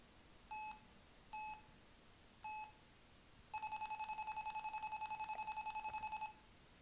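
A Siemens S65 mobile phone's countdown timer beeps: three separate electronic tones at uneven intervals, then a fast run of rapid repeated beeps lasting about three seconds, clear and fairly quiet with no talking.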